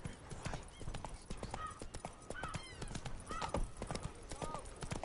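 Roach, a horse in a video game, trots with quick, crisp clip-clop hoofbeats throughout, accompanied by faint snorts and light game ambience, with a voice speaking briefly over it.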